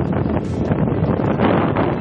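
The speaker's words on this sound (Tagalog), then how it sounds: "Binayo rin ang malakas na hangin ng ilang lugar sa Ilocos Norte." Strong typhoon wind from Typhoon Marce in Ilocos Norte, a steady, loud roar buffeting the microphone with no voices.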